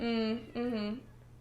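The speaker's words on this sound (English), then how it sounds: "conceptualize, like, the cutest little cat" A small cat gives two clear, rising meows in quick succession, close and fairly loud, followed by quiet room tone.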